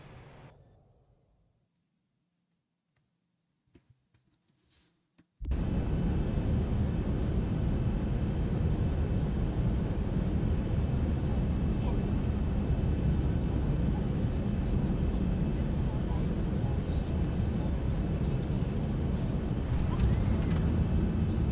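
Aircraft rolling down a runway in the X-Plane 12 flight simulator, a steady loud roar of engine and wind noise that kicks in after a few seconds of near silence and holds constant to the end.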